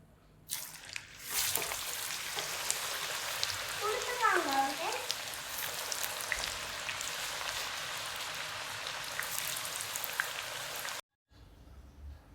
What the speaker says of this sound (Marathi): आता मी तेलात टाकते